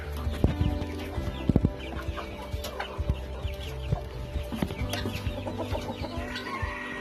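A flock of native country chickens clucks steadily nearby, overlapping short calls mixed with sharp pecking taps and light clattering, with no one talking.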